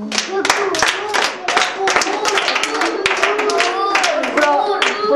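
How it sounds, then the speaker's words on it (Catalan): An audience at a talk claps loudly in dense, sharp bursts that carry on throughout, with voices calling out over the clapping. "Un aplaudiment."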